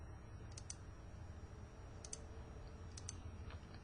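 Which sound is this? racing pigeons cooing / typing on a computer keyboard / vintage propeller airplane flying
typing on a computer keyboard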